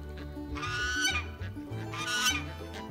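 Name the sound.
ducks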